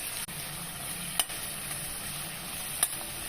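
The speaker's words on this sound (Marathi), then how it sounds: "कट केलेला कांदा चांगला लाल होईपर्यंत परतवून घ्यायचा" Chopped onion frying in two ladles of oil with cumin seeds and curry leaves, giving a steady, close, dense sizzle with a couple of faint clicks from stirring, no talk.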